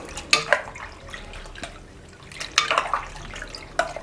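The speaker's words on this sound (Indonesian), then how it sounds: "Saya tambahkan air pandan yang sudah kita rebus tadi." Boiled pandan water is poured into an iced drink with nata de coco, giving soft drips and splashes in a few separate bursts, close and fairly quiet, with no talking.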